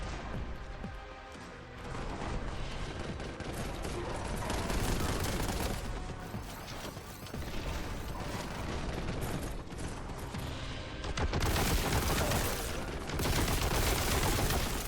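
Dense, sustained gunfire and explosive impacts from the Warhammer 40K: Boltgun first-person shooter game, loud and continuous with heavy bursts throughout and no talk over it.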